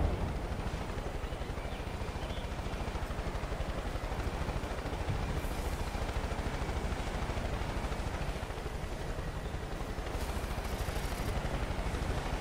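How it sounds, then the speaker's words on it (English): Helicopter in the video game Far Cry 5, a steady, dense rotor and engine roar running continuously at fairly close range, with faint scattered game noises over it. "The helicopter."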